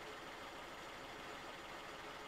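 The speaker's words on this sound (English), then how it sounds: "now it will start to reduce the revs down towards idle again" A BMW engine with an injector fault runs steadily at raised revs during an injector test before easing toward idle, a dense continuous drone heard close with no voices.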